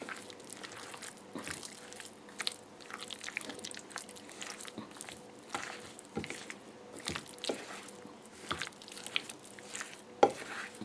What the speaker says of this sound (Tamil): எல்லாத்தையும் போட்டுட்டு வடிவாக மிக்ஸ் பண்ணுவோம். கையால் தான் குழைக்க போகணும்